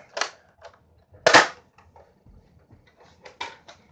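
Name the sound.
Captain America nerf pistol shooting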